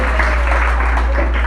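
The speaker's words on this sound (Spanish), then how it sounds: "Un aplauso al Señor." Congregation applauding in a church during a sermon, a steady wash of clapping filling the space at a fairly loud level with no pauses, some low hum underneath.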